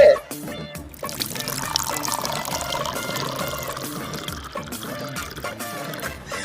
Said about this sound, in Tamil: பாத்தியா மோனிகா என் ஒட்டகம் எவ்வளவு பால் கொடுத்துருக்கு